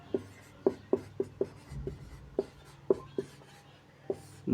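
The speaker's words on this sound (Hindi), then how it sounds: "तो चलिए दोस्तों पहले ऐसे लिखते हैं" Pen writing by hand on paper, a series of quiet, close scratchy strokes and taps in an irregular rhythm, soft and alone in a quiet room.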